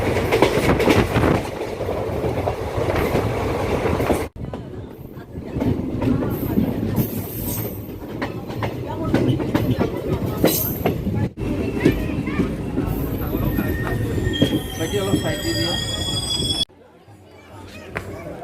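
Train 15968 Ledo-Rangiya Express running between Tinsukia and Guwahati, with steady loud rumble and clickety-clack of wheels on rails, brief squeals, and people chattering throughout.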